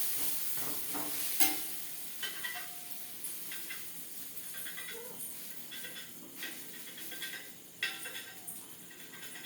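Onion and rice adai batter fries on a pan, sizzling steadily at close range, punctuated by scraping and light ladle clinks against the pan, with no speech.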